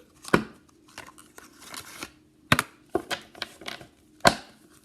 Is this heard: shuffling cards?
yes